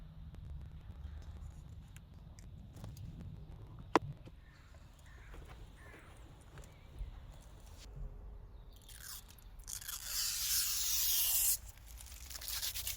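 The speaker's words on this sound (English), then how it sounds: "It was then slightly overhanging, so I just peeled it away and trimmed the excess off." Vinyl decal graphics are peeled back and trimmed on a campervan body, a faint close scraping and rubbing that builds into a louder ripping tear near the end, over quiet outdoor background.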